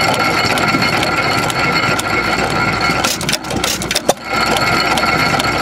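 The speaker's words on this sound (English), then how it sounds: "This is the latch out mechanism." A hit-and-miss engine idles with a rapid mechanical clicking, then a louder clack and clatter as its latch-out mechanism releases before the steady running resumes.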